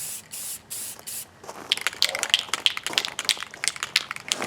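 Light coats of spray paint are applied to motorcycle engine covers of a Suzuki Bandit 1250 FA in a cold shop, heard as a series of short hissing aerosol bursts close by, with a few longer sprays at the start.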